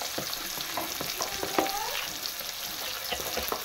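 Onions fry in a pan of ghee for pakora kadhi, giving a soft, even sizzle with occasional clicks and scrapes of stirring, fairly quiet and close, with no voices.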